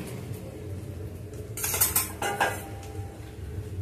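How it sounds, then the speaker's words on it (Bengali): A cooking pot set down on a stove while pulao is being made, giving a short cluster of metallic clanks and scrapes near the middle, loud and close, with quiet kitchen background before and after and no talking. "যে হাঁড়িতে করবো সেই হাঁড়িটা বসিয়ে দিচ্ছি।"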